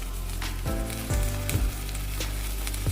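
Goat brain frying in a pan for a mutton head curry, a steady close sizzle with a few louder bursts of spitting oil, heard alone without talk.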